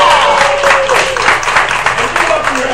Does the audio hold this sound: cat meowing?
no